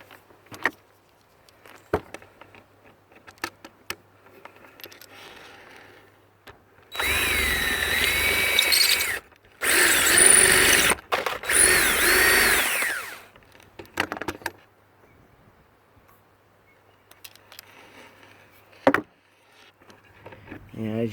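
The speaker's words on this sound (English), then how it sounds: "drill the top off the rivet, pop." Power drill boring the head off a rivet on a Viscount caravan window, heard in two loud whining bursts of a few seconds each with a short pause between, set among quieter handling clatter and knocks.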